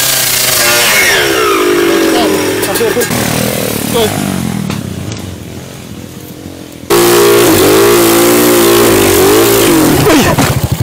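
A motorcycle engine revs loudly and close at a track in Carmona, its pitch rising and falling in repeated bursts, with people talking over it.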